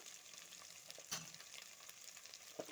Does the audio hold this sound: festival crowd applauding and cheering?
no